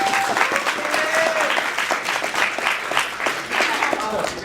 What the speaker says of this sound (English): everyone give her a round of applause too